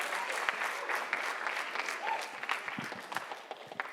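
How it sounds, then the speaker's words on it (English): A school audience gives steady, dense applause for the incoming superintendent at a writers expo, with clapping filling the whole stretch at an even level. "you want to give her a big round of applause as she comes out"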